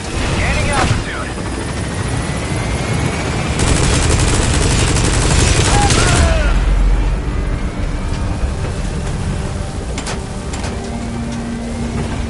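The helicopter Pequod in a video game climbs away from a landing zone, a loud continuous rotor and engine roar with bursts of gunfire and game effects mixed in.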